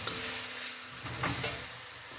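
Spice masala with ginger-garlic paste fries in a pan under steady stirring, a quiet continuous sizzle with a few soft scraping strokes of the spoon, heard close and without talk.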